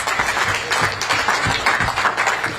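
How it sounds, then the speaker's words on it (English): A seminar audience gives the panelists a warm round of applause, with dense, even clapping that is loud and close and carries no speech over it. "Loud applause for the amazing panelists."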